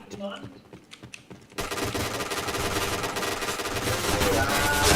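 Rapid automatic gunfire from the shooter game Point Blank rattles continuously and loudly after a short stretch of scattered clicks and shots, with voices over it.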